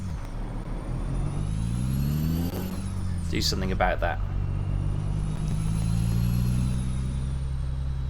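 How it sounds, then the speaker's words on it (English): Heavy truck engine drones low and steady while driving through Arizona near Yuma, loud and continuous with a brief hiss and rattle midway; someone talks over it. "this truck, especially with the deep basin, is quite a noisy truck"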